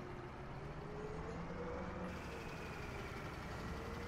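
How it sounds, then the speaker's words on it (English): A tractor engine in Farming Simulator 17 runs steadily after starting, a continuous loud low rumble with faint harmonic tones throughout and no talking. "it's got the started engine sound, but it won't move yet"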